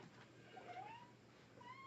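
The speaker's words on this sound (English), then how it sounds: "he's meowing" A cat meows softly in the background of a quiet indoor room, one faint drawn-out rising meow followed by a shorter one near the end.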